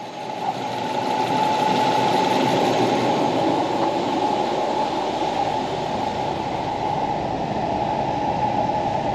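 A 2001 Subaru Forester with a 4EAT automatic transmission runs on a dynamometer, giving a steady, loud engine drone with mechanical rumble that holds even throughout, with no talking.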